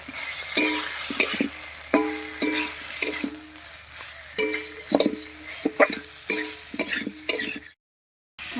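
Taro pieces stir-fried in oil with spice paste for a katla fish curry, with repeated scraping and clinking stirs over a steady sizzle, close and fairly loud, ending in a brief silence.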